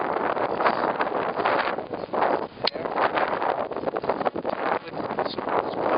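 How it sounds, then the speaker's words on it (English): Wind gusting across a microphone during a bike ride through downtown Seoul, a continuous rushing roar that swells and dips, close and fairly loud with no clear talk. "You can hear the wind."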